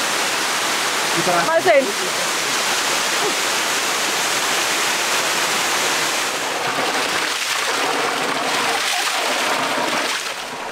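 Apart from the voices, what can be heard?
waterfall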